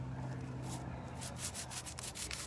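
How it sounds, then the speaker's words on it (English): Steady abrasive rubbing of sandpaper on wood, a continuous scratchy hiss with repeated strokes, close by and moderately quiet. "I'm sanding it and it's just like not doing anything"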